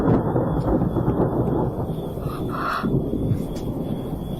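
Thunder rumbles low and continuous over steady falling rain, a dense, unbroken storm sound with no voices.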